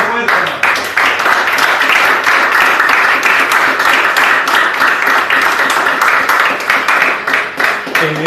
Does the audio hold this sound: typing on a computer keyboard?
no